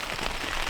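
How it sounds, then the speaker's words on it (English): Steady rain falls at a campsite during a prolonged downpour, a dense, even hiss of drops pattering on surfaces close by, continuous and without voices. "As you can tell, it's raining right now."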